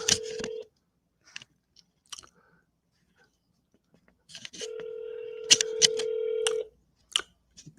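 Telephone dialing while a call is placed back: a steady dial tone, a few short keypad beeps, then a longer tone overlaid with quick button presses, close up and with no talking.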